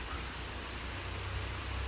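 Heavy rain pours down steadily, a dense, loud, unbroken hiss of drops hitting surfaces, with no voices.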